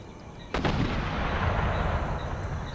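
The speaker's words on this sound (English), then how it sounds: "We're being hit. Wow, what has he got there? Must be his normal artillery." A sharp artillery blast booms out in the Empire Total War battle, one loud cannon report followed by a rumbling, sustained roar of distant battlefield gunfire.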